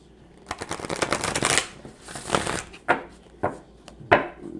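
Oracle cards shuffled by hand, a riffling burst followed by several separate close slaps and flutters of the deck, loud and near with no voice over them.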